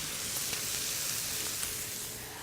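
Bone-in teriyaki chicken pieces sizzle on a grill in a steady, close frying hiss with scattered small pops and crackles, easing slightly toward the end.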